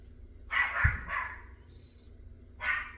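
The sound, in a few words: small dogs barking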